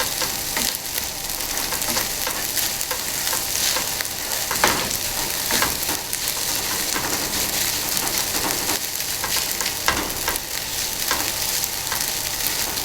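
Rice and egg stir-fry in a frying pan with a continuous sizzle and crackle, a spatula scraping and tossing at intervals, close and steady throughout.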